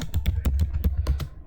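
Several quick key presses on a computer keyboard, as when entering the Shift plus F11 shortcut in Excel, in a close, steady run of clacks over a low background hum, with no talking.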